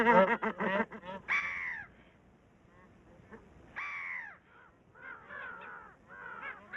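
Harsh, raucous calls from brown-headed gulls scavenging broken eggs in the Ladakh Himalayas, coming in clustered bursts with short pauses between them, moderately close and alone without talk.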